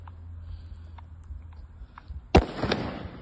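A Magnum Alba firecracker goes off for New Year's Eve with one loud, sharp blast, followed by a crackling, rumbling echo that fades out, after quiet outdoor background with faint pops.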